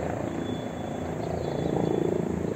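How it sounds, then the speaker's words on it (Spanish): A helicopter flying near a heliport, heard during a driving test in a parking area: a steady, moderately loud rotor drone with a fast pulsing chop that grows slightly stronger toward the end, with no talking. "¿Qué es eso? Ah, el helicóptero ya, ¿eh? Está el helipuerto para aquel lado."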